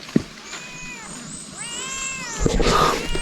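A cat meows several times, drawn-out and wavering, amid background noise with a sharp knock and some scuffling.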